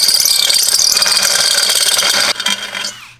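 A ratchet clicks rapidly and loudly up close as a downpipe is removed from a BMW E36, a fast continuous metallic ratcheting that stops abruptly near the end.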